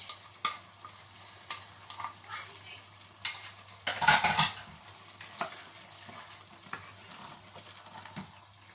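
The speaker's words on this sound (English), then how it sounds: "if you keep on stirring, you find some, just crush it with your wooden spoon" A wooden spoon stirs a simmering Ghanaian stew of salted tilapia, eggplant and tomatoes in a pot, giving soft scraping and bubbling sizzle with a louder burst of clatter midway, close and without talk.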